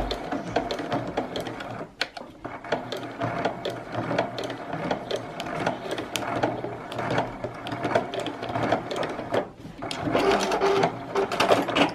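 A sewing machine stitching across a fabric rope bowl, running in a fast continuous mechanical whir with brief pauses and restarts, close and fairly loud.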